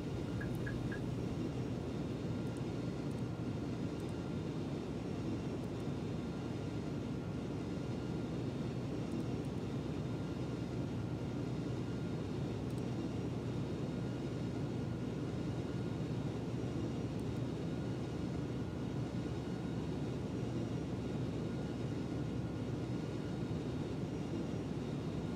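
Airbus A300 freighter on landing approach in the X-Plane 11 flight simulator, a steady broadband engine and airflow roar with a low rumble, continuous and even throughout with no talking.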